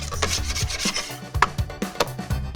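Pizza dough coated in a little oil is lifted, stretched and folded over in a plastic tub. Soft, close rubbing and sticky slaps come in an irregular rhythm with no talking.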